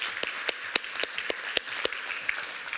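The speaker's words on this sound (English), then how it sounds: "a really big round of applause for Luca" Applause at a tech panel event after a round called for a presenter, a steady wash of clapping with a few sharper, louder claps standing out at regular beats over about three seconds.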